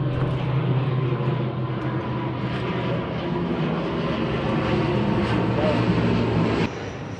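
An airplane passes overhead near an island shore, a broad steady roar that holds throughout and drops off slightly at the end.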